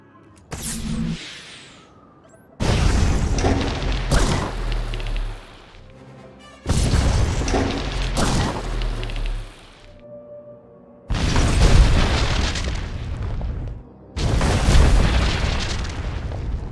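Republic artillery guns blowing up in Star Wars: The Old Republic, four separate heavy booming explosions spaced a few seconds apart, each a loud sudden blast with a rumbling tail, alone and close.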